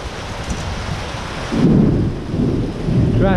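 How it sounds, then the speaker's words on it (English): Thunder rumbles and booms over steady rainfall in a lightning storm, the low roar swelling midway and rolling on, with no voices. "Bang, there's more lightning just gone off."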